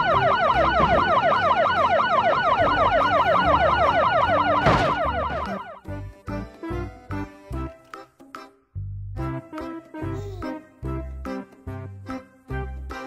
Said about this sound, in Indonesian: Polis car.